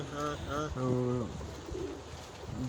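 Green jalali pigeons kept captive coo in low, rolling bursts, several calls close by and overlapping, with someone talking beneath them.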